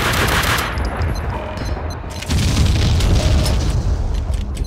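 Loud gunshots and booming blasts in the action game Max Payne 2 hit in heavy bursts, with a sharp jump in intensity midway into sustained automatic fire.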